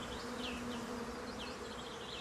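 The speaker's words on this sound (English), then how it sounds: "And just hark at the bees." Bees hum steadily around a dome-trained wisteria in flower at Nymans Garden, a soft continuous insect buzz with a few nearer flybys drifting past.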